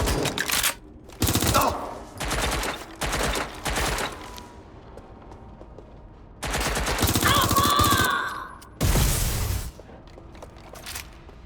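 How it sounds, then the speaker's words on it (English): Automatic gunfire in the video game Watch Dogs Legion comes in several loud, sustained bursts separated by short pauses, with a whining mechanical tone mixed into one burst. "Getting shot at here"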